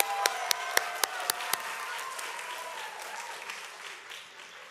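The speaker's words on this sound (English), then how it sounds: "Can I have a round of applause?" An audience at a live concert evening in Miami applauds, opening with a handful of loud, close, evenly spaced claps over a softer crowd wash that gradually fades away.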